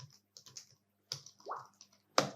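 Keys clatter on a computer keyboard during a Svelte coding setup, a few quick clicks in small bursts, then a firmer final keystroke for Enter. The sound is close and clear, with no talking.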